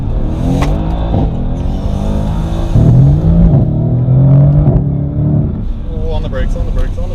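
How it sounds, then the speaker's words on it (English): A 4-liter twin-turbo V8 supercar accelerating hard in race mode, its loud engine note rising through climbing revs under a person's excited talking. "This 4-liter twin turbo V8. Ooh, let's put it in race mode"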